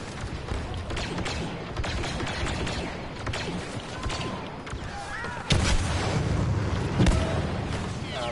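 Gunfire in a naval blockade video game, with repeated booming shots and crackling volleys from several shooters, including a louder heavy blast partway through, over a dense rumbling battle background.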